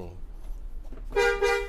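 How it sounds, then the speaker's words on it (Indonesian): A Hino AK 240 Euro 4 bus horn blasts a loud, brassy honk near the end, preceded by traffic rumble and a voice briefly talking. "Jadi ciri khas klakson Hino kayak gini nih"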